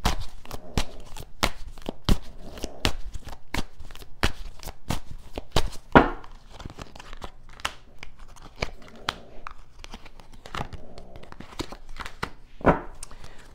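Tarot cards shuffled and drawn up close, a rapid series of crisp riffling snaps and slaps repeating in irregular bursts, with occasional louder card flicks and no talking.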